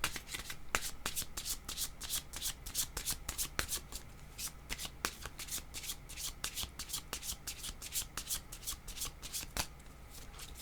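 Tarot cards being shuffled by hand, a rapid run of crisp riffling and slapping card sounds repeating steadily for several seconds, close and quiet with a faint low hum beneath.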